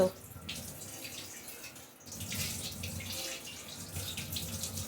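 A plate is washed under a running kitchen tap, with a steady faint rush of water that briefly pauses and then resumes, louder and close by.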